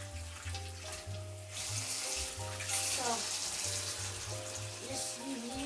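Cold tap water runs steadily into a pot of potatoes in a home kitchen, a continuous splashing rush with faint clinks and a brief voice.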